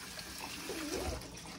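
Cut taro pieces being washed in water, a brief, soft splashing and sloshing of liquid against a steady running-water hiss.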